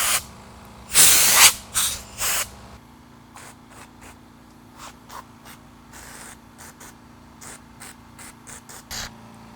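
Ant killer insecticide sprayed into an ant nest inside a spalted silver maple log, one long loud hissing burst followed by several shorter sprays, then a run of quieter brief puffs against a low background hum.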